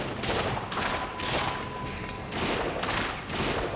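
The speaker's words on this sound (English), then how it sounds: "Behold, the VX-001 anti-personnel assault cannon." A VX-001 anti-personnel assault cannon in World of Warcraft fires in rapid, overlapping bursts of loud blasts and thuds, a dense barrage in waves with brief lulls.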